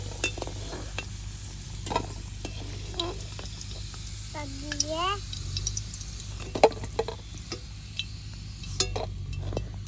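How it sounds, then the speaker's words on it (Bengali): Banana pitha sizzles steadily in a pan of oil, a continuous close frying hiss punctuated by light clinks and scraping of a utensil, with a brief voice-like tone in the middle. "এরকম করে সবটি মিষ্টি পিঠা ভাজে নেব।"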